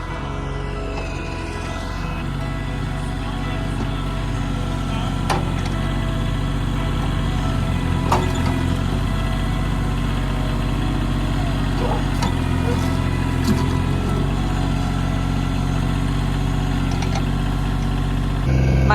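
A tractor engine runs steadily at a low, continuous rumble while land is levelled and big rocks are dug out for an off-grid horse barn build, with a few faint knocks and clanks on top.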